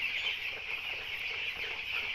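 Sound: poultry chickens clucking on a farm

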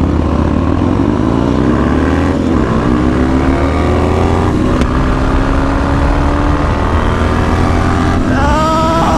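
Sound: cars racing, engines revving

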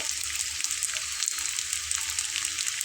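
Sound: vegetable rolls frying on medium heat

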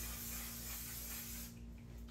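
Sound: makeup setting spray being sprayed

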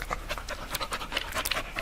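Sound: dog panting in the forest

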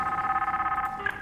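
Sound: telephone ringing in the video game Soma

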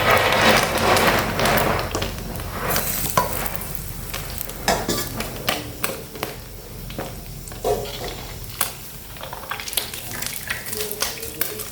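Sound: deep-frying fluffy catfish

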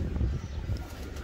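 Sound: pigeons cooing and flapping

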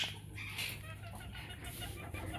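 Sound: hen clucking

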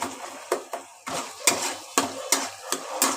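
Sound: stir-frying spice masala in a pan

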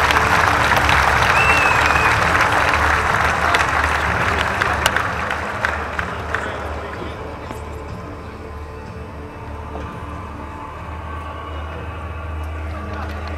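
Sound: applause supporting the fighter

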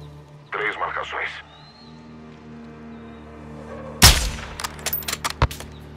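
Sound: gunfire in video game

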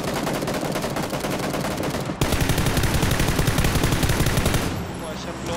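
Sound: gunfire in the video game Squad

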